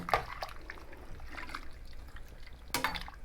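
Potatoes and sausage stirred into a pot of sausage, potato and cabbage soup, giving soft wet sloshes and a couple of brief utensil clinks against the pot, close and fairly quiet.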